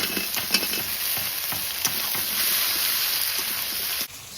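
Taro pieces sizzling in hot fish oil in a wok with five-spice, old ginger, slit green chilies and chopped onion, a steady close crackling fry with a few stirring clicks, then an abrupt drop near the end.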